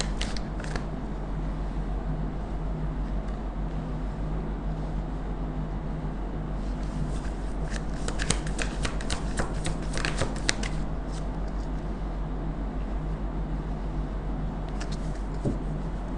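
A deck of tarot cards is shuffled continuously up close, a steady papery riffling with a burst of sharper flicking cards in the middle.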